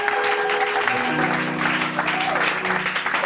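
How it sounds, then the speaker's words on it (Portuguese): A church congregation applauds in a steady, broad wash of clapping, with sustained instrumental tones gliding underneath, fairly close and continuous throughout. "Agradeceria que a igreja aplaudindo para a glória do Senhor"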